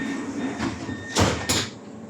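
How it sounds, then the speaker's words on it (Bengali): Doors of a Riyadh metro train slide shut in two quick whooshing sweeps over a steady carriage hum, close and fairly loud. "দরওয়াজা বন্ধ হয়ে গেল"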